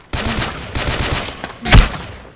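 Gunfire in the video game Ace of Spades: a burst of rapid game shots followed by one louder, sharp blast near the end, all heard close through the game sound with no talking.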